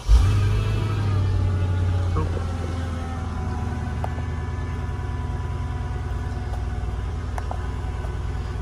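A Mercedes E55 W211 fires up with a loud burst of revs, then settles into a steady low idle rumble that carries on evenly to the end, heard from close by.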